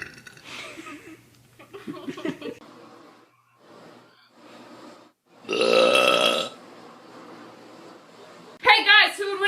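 Several burps come from a young woman in a casual burping contest, loud and close, with a long throaty belch mid-clip and a sharp one near the end, mixed with breathy laughs and gasps between them.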